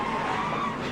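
Race car at Watkins Glen skidding and spinning, a brief loud tire-scrubbing skid over engine noise, heard alone.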